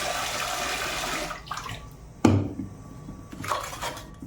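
Cut vegetables being rinsed in water in a home kitchen, a steady wash of running and splashing water that fades, followed by a sharp clatter of a pot or dish and softer sloshing afterward.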